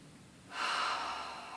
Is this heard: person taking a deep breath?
yes